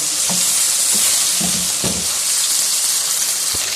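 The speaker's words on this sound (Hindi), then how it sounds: "ये हमारा अच्छी तरह से चिकन फ्राई हो गया जी।" Chicken pieces frying on high heat for a masala dry dish, a steady loud sizzle with a few short scrapes and knocks of stirring.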